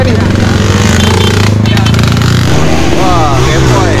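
A motorcycle with a scuffed piston, on a ride to Cameron Highlands, runs close and loud with a steady, throbbing engine rumble. Voices are faintly audible toward the end.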